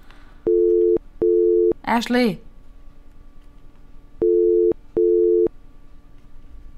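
A telephone ringback tone after dialling a call plays in a repeating double-burst pattern: two short steady tones, a pause, then two more. A voice shouts once between the pairs.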